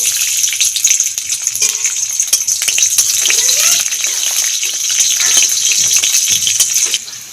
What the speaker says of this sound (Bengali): তেলের মধ্যে দিয়ে দেবো ছাড়ানো গোটা গোটা রসুন